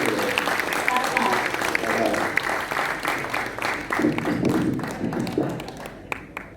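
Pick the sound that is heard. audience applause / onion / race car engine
audience applause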